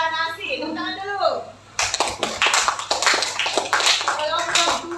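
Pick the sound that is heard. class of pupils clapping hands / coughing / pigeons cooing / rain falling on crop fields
class of pupils clapping hands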